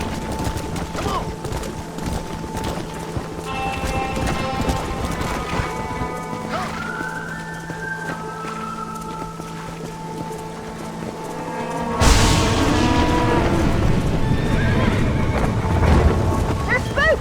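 Hoofbeats of horses stampeding in the video game Red Dead Redemption clatter steadily under music and ambience, then swell louder and denser partway through, with a whinny and voices mixed in.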